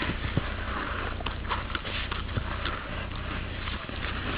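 A horse outdoors shifts about with soft hoof thuds, snorts and sniffs against steady wind noise, close and continuous.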